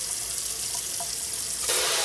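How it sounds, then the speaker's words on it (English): A kitchen sink faucet runs at weak, reduced pressure, giving a steady, close hiss of flowing water that swells into a brighter, louder splash near the end. "It's full water pressure. It should be blasting."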